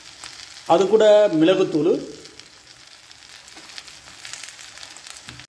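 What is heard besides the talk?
tapioca frying in a pan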